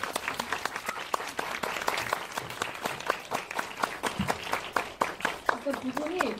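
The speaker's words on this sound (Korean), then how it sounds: "나오시면 큰 박수 부탁드릴게요." An audience claps to welcome guests onto the stage at a cinema talk event, with sharp individual claps ringing out distinctly in a steady, moderately loud round and a voice briefly audible near the end.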